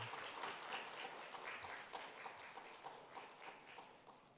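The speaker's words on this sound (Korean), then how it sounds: "우리 박수로 한번 격려했으면 좋겠습니다" A church congregation claps for its departing accompanist after the last service played, steady soft applause that sounds distant and faint throughout, with no voices over it.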